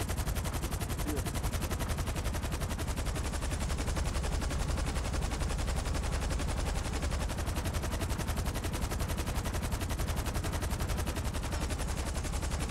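Rapid, dense gunfire from a firefight in the video game GTA V Online, with shots cracking nearly continuously and loudly for the whole stretch, without pause.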